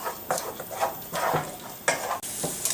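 Diced bacon or pancetta frying in a hot pan, bright crackling sizzle with repeated stirring strokes and scraping bursts, close and without voices.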